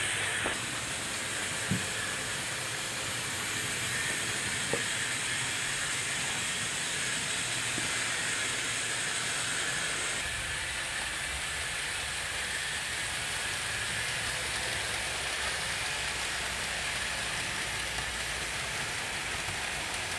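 Hornby model steam locomotives run on a layout track, giving a steady broadband hiss and rumble with faint clicks throughout, continuous and moderately loud with no talking.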